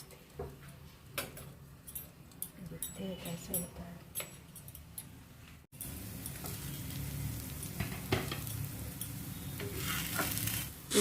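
Eggs fry in oil under a lid in a pan, a soft crackle at first that swells into a steady, dense sizzle, with a faint voice early on.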